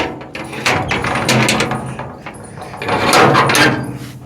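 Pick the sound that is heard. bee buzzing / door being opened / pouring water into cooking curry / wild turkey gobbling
door being opened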